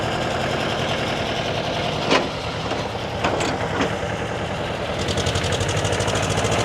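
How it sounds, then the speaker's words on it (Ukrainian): A vintage tractor fitted with a rotary tiller runs at an old-machinery show in Switzerland, its engine chugging steadily and close by with a few sharp knocks and a brief rise in throttle near the end. "отаку ось фрезу в роботі"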